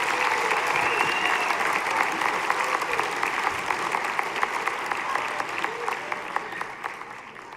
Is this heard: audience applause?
yes